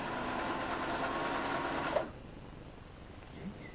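A sewing machine runs with a steady, dense mechanical whir for about two seconds, then stops abruptly, leaving quiet room noise with a faint bump near the end.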